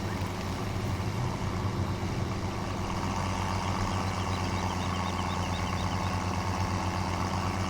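A tractor engine in the video game Farming Simulator 17 drones in a steady, loud low rumble with a broad hum, running continuously without talking.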